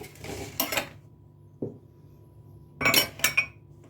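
A utensil stirring flour and milk into pie dough in a bowl, heard as short bursts of scraping and clinking against the bowl, separated by pauses, close and fairly loud.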